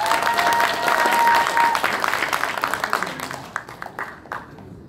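An audience at the Ansan City Football Association president's inauguration ceremony applauds an appointment. The dense, loud clapping thins into scattered individual claps and dies away.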